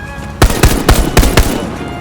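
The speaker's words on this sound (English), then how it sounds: "Guns are loud." Rapid automatic gunfire from the World War II shooter game Hell Let Loose: several loud, sharp shots fired in a quick, uneven burst, close up and with no talking.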